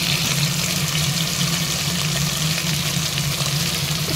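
Onions and potatoes frying in a pan for an aloo matar paneer pulao, a steady loud sizzle with a constant hiss that runs unbroken from start to finish, with no voices over it.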